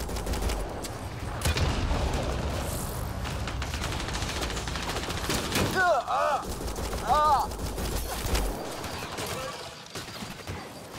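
Sustained gunfire in Mass Effect Andromeda on Habitat 7, a dense continuous barrage of rapid shots with game effects layered over it, while a voice speaks briefly partway through.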